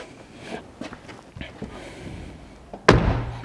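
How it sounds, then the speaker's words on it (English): A French car door, fitted without its rubber seal, swings shut with one solid clunk near the end, after faint shuffling and handling noises up close. "That door still clunks, even though there's no door seal in it."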